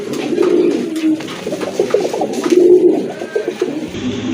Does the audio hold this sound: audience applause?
no